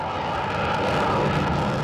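Airplanes roar overhead at an air show, ranging from propeller planes to fighter jets, as a steady, loud, broadband engine drone with no break.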